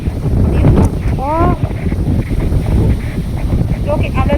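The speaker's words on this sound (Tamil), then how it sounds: "பயங்கரமான காத்தடிக்குது." Strong wind gusts buffet the microphone on a hilltop, a loud continuous rumbling roar with a person's voice faintly heard beneath.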